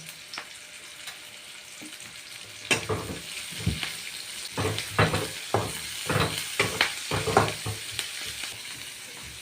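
Onion, green chili, curry leaves, ginger and garlic sauté in coconut oil, a steady close sizzle broken by repeated scraping stirs that come in quick bursts through the second half.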